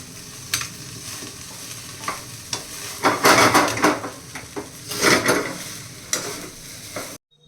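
Egg rice with coriander is stir-fried in a pan, with a spatula scraping and knocking in bursts over a crackling sizzle. The clattering grows loud in the middle and cuts off abruptly at the end. No speech.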